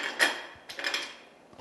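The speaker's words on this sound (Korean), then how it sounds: "고무망치를 이용해서 이와 같이 툭툭 밀어내셔가지고" Rubber mallet tapping a camshaft sprocket part loose on a car engine during a mechanic's exam repair, two dull close knocks about half a second apart followed by faint scraping.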